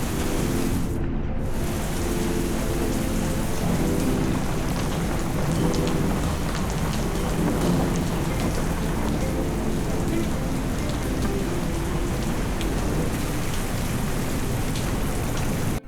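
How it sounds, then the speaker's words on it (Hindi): Heavy rain pours down in a dense, steady roar with deep rolling thunder mixed in throughout, continuous and loud with no pauses or talking. "it's raining like crazy"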